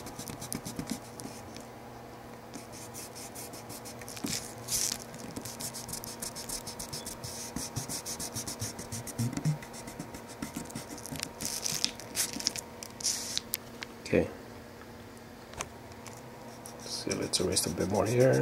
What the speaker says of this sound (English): Let's erase a bit more here.